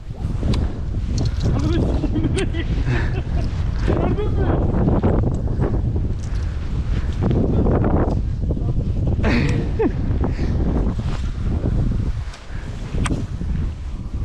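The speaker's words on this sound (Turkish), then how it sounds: "Rüzgar da saatte mübarek 100 km hızla esiyor." Strong wind of about 100 km/h roars and buffets the microphone continuously, a loud rumbling gust noise with voices talking underneath, out fishing for pike.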